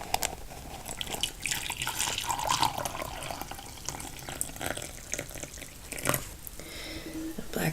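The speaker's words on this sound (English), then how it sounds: "I've got my hot water here just off the boil." Hot water just off the boil poured over black tea in a quiet indoor setting, a steady splashing trickle running through the whole stretch with a few brighter clinks and gurgles near the end.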